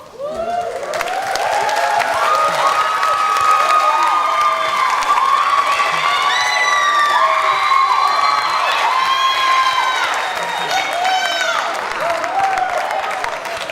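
An audience at a 2019 Texas high school graduation ceremony bursts into loud, sustained applause with cheering, whoops and shouts, swelling quickly and holding full for over ten seconds before easing slightly at the end.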